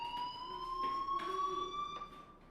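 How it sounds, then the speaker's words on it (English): A fire alarm rings inside a school in the Life is Strange video game, a steady electronic tone that repeats and pulses throughout, moderately loud and heard alone. "do you hear that fire alarm? That means you should be outside."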